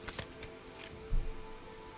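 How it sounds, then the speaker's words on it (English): Tarot cards shuffled by hand during a reading, a few quick papery riffles and flicks close up, faint and brief, followed by a soft low thump as the deck settles. "One more shuffle"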